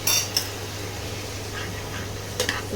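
Ground spice being stirred into bottle gourd in a pan, heard as a few sharp metal clinks of a spoon against the pan at the start and end, with quiet scraping between over a steady low hum.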